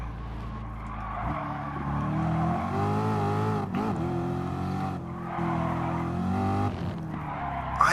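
A race car in the Gran Turismo video game drives hard with a sustained engine roar that rises and falls through gear changes and tyre skids, including a sharp squeal burst midway, steady and fairly loud with no talking.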